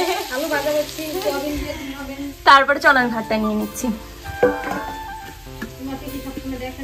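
Potatoes fry in a pan at home, and a soft sizzle runs beneath people talking nearby, with a few brief clatters of utensils.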